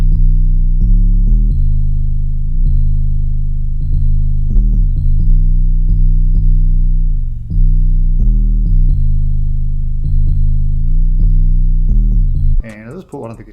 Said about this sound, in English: sort of real bassy sounding plucked basses sort of 808s